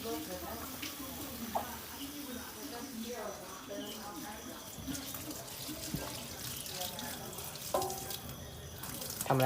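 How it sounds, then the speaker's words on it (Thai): Holy basil leaves are rinsed under a running kitchen tap, a steady close splash of water with leaves being handled, while someone speaks over it. "ล้างใบกะเพราครับ"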